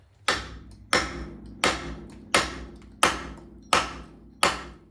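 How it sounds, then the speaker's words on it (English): A hammer taps a suspension ball joint on a 1979 Pontiac Trans Am seven times at an even, unhurried pace, each sharp strike ringing briefly before the next. "We're just going to give him a couple rat-a-tat-tats with the hammer"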